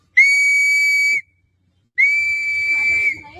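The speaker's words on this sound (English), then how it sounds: "What they're whistling for is to get a crowd there." Two long, steady high-pitched whistle blasts, each lasting about a second, separated by a brief silence; the second trails off with faint background noise.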